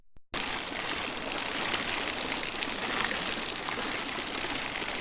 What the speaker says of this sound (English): Well, you can see most of the water is still going past